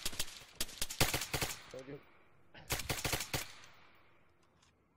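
Two close bursts of rapid automatic gunfire in a shooter video game, each a quick volley of sharp cracks that trail off into echo, with a brief spoken remark between them.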